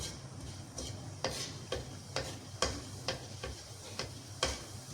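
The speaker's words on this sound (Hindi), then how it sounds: "हल्का सा ये ज़ीरा जो है ना इसको मैं भून लूँ, हल्का सा बस भूनना है इसको" Cumin seeds dry-roasting in a pan make a soft continuous crackle, punctuated by about a dozen evenly spaced sharp ticks and scrapes of stirring, close and fairly quiet.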